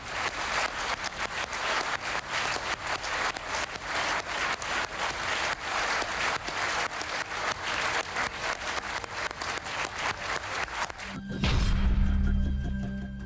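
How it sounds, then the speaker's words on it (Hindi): Thunderous applause fills a conference hall at Hotel Sheraton during a ministerial conference, a long steady roar of many hands clapping, loud and sustained for around eleven seconds before giving way to a low rumble. "होटल शेरेटन तालियों की गड़गड़ाहट से गूंज गया"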